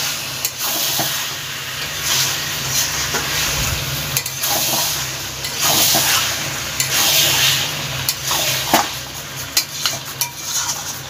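Chicken pieces fry in oil with a spoonful of garam masala powder, sizzling continuously as a spoon stirs and scrapes the pan, with sharp clinks of metal growing more frequent toward the end.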